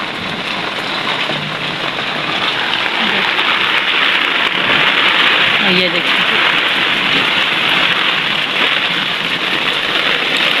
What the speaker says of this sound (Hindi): बारिश हो रही है, तेज़ तेज़ बारिश हो रही है, शदीद तेज़